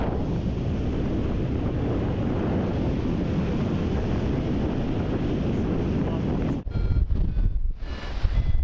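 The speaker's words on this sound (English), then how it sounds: "there's actually quite a lot of wind once you get off the ground" Heavy wind roar buffets the microphone while paragliding from Somerset, a loud steady rush for most of the stretch before it cuts out abruptly, leaving brief gusty bursts near the end.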